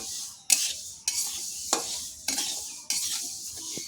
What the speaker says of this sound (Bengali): দিয়ে ডালটা কিন্তু ভালোভাবে লাল লাল করে ভেজে নেব